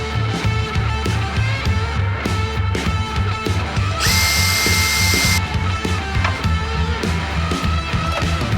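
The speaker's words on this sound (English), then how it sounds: "All right, got the holes drilled for the back two holes." A power drill bores holes into a damaged RC truck body, a steady whirring drone with a sharper, louder high-pitched burst in the middle as the bit cuts through.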